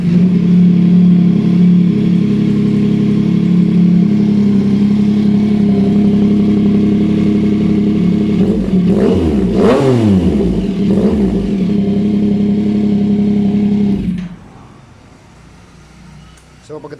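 The exhaust of a Yamaha Tracer 9 GT idles loud and close, then is blipped in a couple of quick revs before cutting off, leaving a quieter tail.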